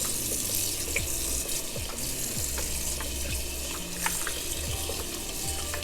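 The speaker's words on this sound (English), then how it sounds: "So we're just washing the meat here." Pork chops rinsed under a running kitchen tap, a loud continuous gush of water into a sink with occasional splashes and handling knocks close by, no talking.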